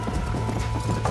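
Horse hooves galloping in the Western video game Red Dead Redemption during a race, a steady, dense drumming of clip-clop beats running through the whole stretch with a constant game background beneath.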